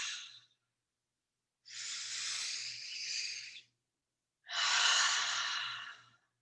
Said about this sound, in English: and then exhale down